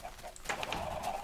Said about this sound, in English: A lot of chickens.